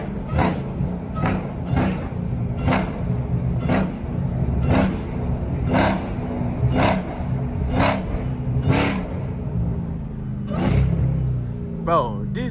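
A Dodge Hellcat with its air intake removed revs hard and downshifts, the loud engine note broken by a regular series of sharp bursts and pops, with a brief voice near the end.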